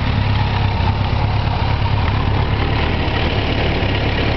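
A vehicle engine idles while stopped on a February drive, a steady loud low rumble with a constant mechanical hum and no speech over it.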